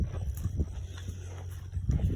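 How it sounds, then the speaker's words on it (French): Horses standing close by on a farm next to abandoned houses in rural Quebec, giving soft hoof thuds and shuffling clip-clop steps in short bursts over a low steady outdoor rumble, with no talking. "ces chevaux sont juste à côté"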